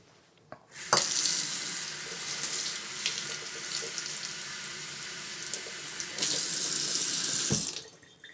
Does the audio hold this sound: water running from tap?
yes